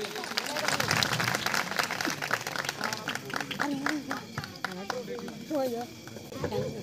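Audience at a Ramleela awards show claps for the committee president, scattered and uneven applause under someone talking throughout, the clapping thinning out toward the end.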